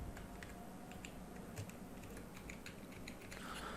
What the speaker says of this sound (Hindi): यहाँ मैं अपना पासवर्ड डाल देता हूँ